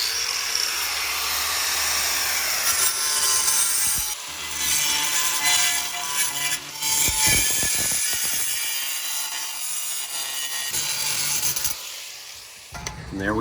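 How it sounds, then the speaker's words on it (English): An angle grinder cuts a round hole in ceramic tile, producing a loud, continuous gritty whine with abrasive scraping that dips and surges as the blade works through the tile. It pauses briefly several times and stops near the end. "I'm gonna flip this over and I'm gonna cut a little bit out this way."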